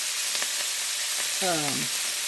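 Onion and Brussels sprouts sautéing in a Staub Everything Pan, a steady soft sizzle throughout with a brief spoken voice over it partway through.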